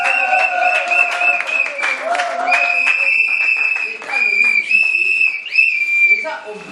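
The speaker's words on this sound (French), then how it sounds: "On applaudit très fort." Guests at a civil wedding ceremony clap loudly, with brisk clapping at first and high sustained whistle-like tones and voices carrying over the crowd throughout.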